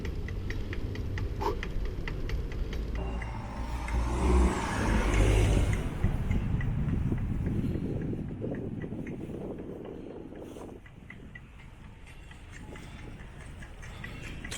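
A BMW M2 accelerates past on a London street in Notting Hill, a broad engine roar that swells and peaks mid-clip, then fades into steady traffic and street noise.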